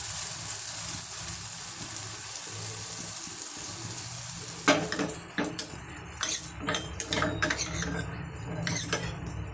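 Eggs for an egg roll are beaten in a bowl. After a quiet start, the second half fills with quick, irregular clinks of utensil against dish, close and fairly sharp.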